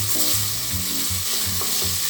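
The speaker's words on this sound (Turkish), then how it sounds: "Biraz da onunla kavuracağım." Loud, steady sizzling of tomato paste frying in a hot pot, with rhythmic scraping and stirring beneath the crackle.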